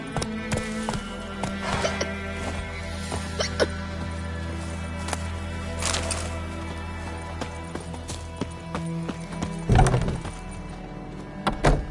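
Hooves clip-clop steadily as the horse Roach runs in The Witcher 3 video game. A low rumble of ambience sits beneath the hoofbeats, and a louder thud comes near the end.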